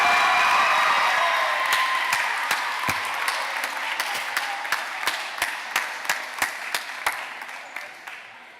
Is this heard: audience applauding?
yes